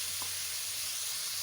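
Marinated chicken sizzling in a pan of hot oil for shawarma, a steady, bright hiss that carries on close and unbroken, with no voices.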